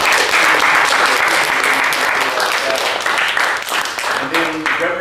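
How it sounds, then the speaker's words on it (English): A crowd breaks into a loud, sustained round of applause, dense clapping that thins slightly toward the end, with some voices mixed in. "can we give a round of applause"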